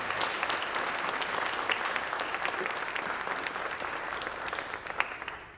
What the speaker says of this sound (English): Let's have a round of applause for our students for the month of December.